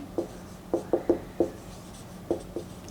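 Chalk or a marker on a classroom board taps and scrapes in short, irregular strokes, about eight quick, distinct knocks close by over low room noise, with no talking.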